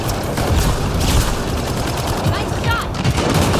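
Rapid gunfire crackles loud and close in the Mass Effect: Andromeda video game, a dense continuous burst of shots with a voice briefly heard among them.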